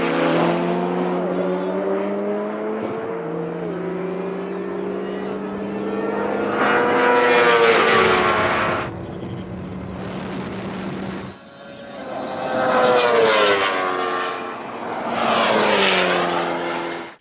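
A BMW S1000RR superbike, a McLaren 720S and an Ariel Atom drag racing, engines screaming loud with rising gear-change sweeps, fading as they pull away, then surging again up close.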